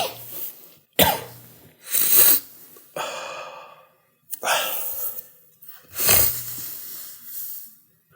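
A man coughing hard after sniffing pepper, several harsh, separate coughs and gasping breaths spaced about a second apart, loud and close, with no speech between them.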